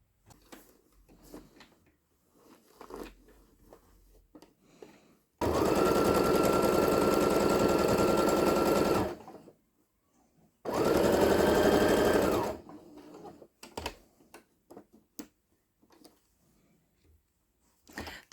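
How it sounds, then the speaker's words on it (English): A sewing machine stitches pom-pom trim onto a pillowcase in two steady runs of a few seconds each, a close, even whirring hum separated by quiet pauses with faint handling sounds. "we're going to go ahead and start sewing 1/4 of an inch from the edge"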